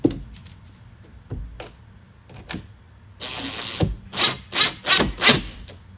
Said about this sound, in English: I'll be using my impact driver fitted with the Phillips head tip to help speed along the process